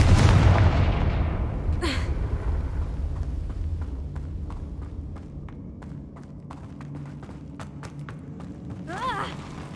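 A fiery Confringo explosion spell in the Hogwarts Legacy video game bursts loudly with a deep boom at the start, then rumbles and fades while scattered crackles and thumps follow.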